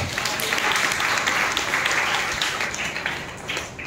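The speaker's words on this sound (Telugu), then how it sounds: "చప్పట్లు కొట్టి ప్రభువును మహిమపరచాలి" A congregation at a New Year's Eve watch night church service claps together in a dense, steady roar of hand claps that lasts about four seconds without a break.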